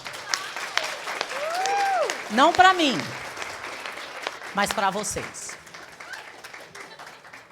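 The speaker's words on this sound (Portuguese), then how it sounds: "eu quero pedir para vocês uma salva de palmas" An audience applauds at a Portuguese-language business talk event, with steady, moderately loud clapping running under a voice as she speaks to the crowd.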